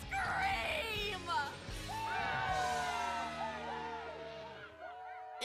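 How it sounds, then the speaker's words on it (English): A cartoon crowd of students screams and yells together, loud and sustained, with overlapping shrill voices rising and falling before fading out. "Let me hear you scream!"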